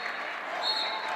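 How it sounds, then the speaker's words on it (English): Crowd at a high school wrestling match cheers and applauds loudly and steadily after a 4-3 decision, a dense wash of noise with no pause. "our crowd is going nuts over that"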